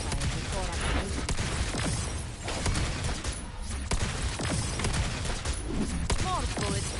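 Gunfire crackles in bursts through a Wuthering Waves battle, with repeated sharp shots and mechanical clatter layered over a dense game soundscape and occasional voices.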